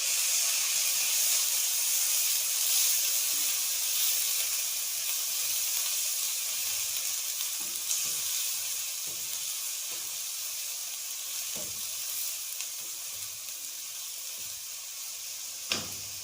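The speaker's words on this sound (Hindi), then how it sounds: "अब इसी ऑयल में जिसमें मैंने भिंडी फ्राई की थी, मैंने 2 प्याज लेके उनको चॉप कर लिया बारीक बारीक, वो शामिल कर दूंगी।" Finely chopped onions frying in the oil left from frying okra, a steady close sizzle and hiss with a few faint soft clicks and a small knock near the end, no talk.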